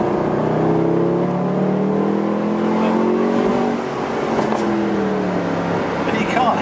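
A Mercedes-Benz SLS AMG Roadster engine, heard from inside the 2012 car as it pulls on the road, holds a steady, loud harmonic drone with rising and falling pitch as it revs through the gears throughout.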